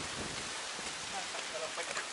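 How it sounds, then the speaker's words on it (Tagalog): Rain pours down during a stormy mountain climb at Sampaloc, Talisay, a steady soft hiss of drops that stays faint and even throughout. "Bagyo ang inabot."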